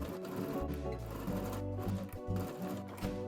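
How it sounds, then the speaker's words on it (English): Sewing machine running a zigzag stitch along the hem of a knit dress sleeve, a close, continuous mechanical hum with a rapid needle rhythm throughout the short stretch, with no talk. "Place each pair of sleeves right sides together and sew along the hem."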